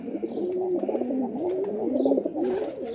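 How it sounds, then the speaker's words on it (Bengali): A Giribaz pigeon cooing close by, a series of soft, rolling throaty coos repeating in a steady rhythm, fairly quiet and clear with no talk. "এবং গিরিবাজ কবুতর, এটা কোনো ক্রসের না"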